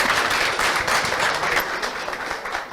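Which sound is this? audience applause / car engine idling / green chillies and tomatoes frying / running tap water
audience applause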